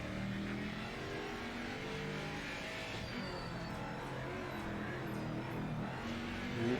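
Jaguar GT race car from Project Motor Racing, its engine droning steadily at mid revs throughout, with a slight rise in intensity near the end.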